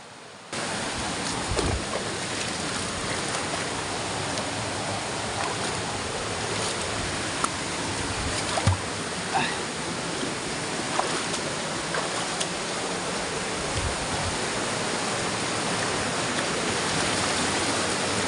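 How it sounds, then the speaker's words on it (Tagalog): Large waterfall at Cawayan Falls in Quezon, Philippines, a steady broadband roar of falling water that holds an even level throughout, with a few faint scattered knocks and no speech. "Natatanaw ko na yung malaking falls."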